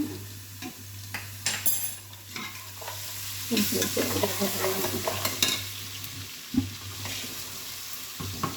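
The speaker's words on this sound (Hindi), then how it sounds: "लहसुन को थोड़ा सा भून के ना इसमें थोड़ा पानी शामिल करती हूँ" Garlic sizzles and fries in a hot pot after browned onions while a spoon stirs and scrapes against the metal now and then.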